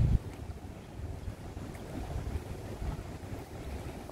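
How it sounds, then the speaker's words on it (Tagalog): Strong storm wind gusting by the sea in Rovinj, Croatia, a steady rushing bluster with low rumbling buffets against the microphone and faint wave wash beneath, no voices. "Malakas ang hangin"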